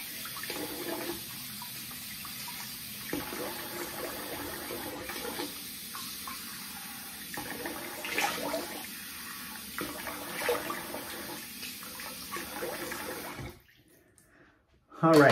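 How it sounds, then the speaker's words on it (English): Tap water runs steadily into a bathroom sink while someone rinses their face after a wet shave, a continuous moderate wash with small splashing variations that cuts off abruptly near the end. "So let me rinse the face here."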